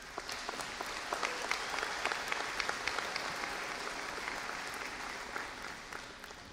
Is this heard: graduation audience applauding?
yes